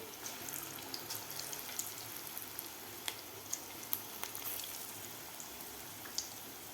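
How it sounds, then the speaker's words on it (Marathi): Moong dal bhaji dropped into hot oil in a kadhai, giving a faint, steady frying hiss with scattered soft pops and crackles, no voices. "जेवढी बसतील तेवढी आपल्याला कढईमध्ये भजी सोडून घ्यायची आहेत"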